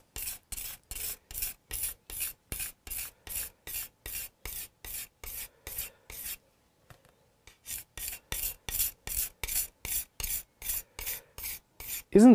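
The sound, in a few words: hand sharpening a tool, rubbing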